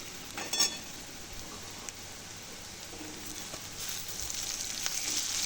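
Onion and garlic sautéing in a pan for a Maharashtrian brinjal curry, a soft continuous sizzle with a few sharper pops and stirring clicks, no talking.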